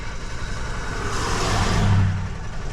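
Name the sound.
GM vehicle engine cranking but not starting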